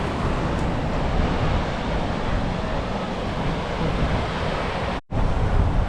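Strong wind buffets the microphone with a loud, constant roar on the Sunshine Coast shoreline in Australia, mixed with surf-like rushing noise, briefly cutting out near the end.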